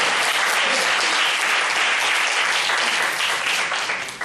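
An audience claps loudly and densely in a hall during a winter mind-study meditation training retreat. The dense applause is continuous and steady, tapering slightly at the end.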